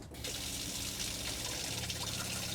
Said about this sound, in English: Your tap button will be here, and then you have cold water